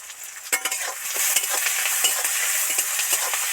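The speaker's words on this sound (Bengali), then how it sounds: "পেঁয়াজগুলো সব সব করে ভাজা হয়ে গেছে" Sliced onions with a pinch of salt, dried red chilli and bay leaf frying in hot oil, a steady close sizzle broken by the repeated scrape and clatter of a spoon stirring the pan.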